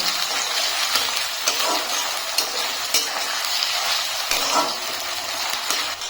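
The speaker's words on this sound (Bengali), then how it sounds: "টমেটোটাকে একটু নেড়ে নেব।" Chopped tomato fries with browned onions in a pan, a continuous sizzle broken by repeated spatula scrapes and knocks as the mixture is stirred.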